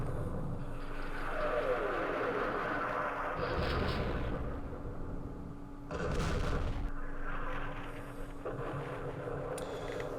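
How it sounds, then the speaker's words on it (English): Artillery barrage falling in the wargame Campaign Series Vietnam, heard as a few muffled, low impacts rolling in over a steady background hum. "And the artillery's going to come falling in now."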